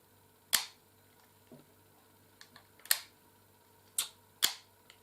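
Safety catch on a Los 7-1 hunting rifle being worked, giving a few sharp, loud mechanical clicks and snaps spaced irregularly over a quiet background, with no talking.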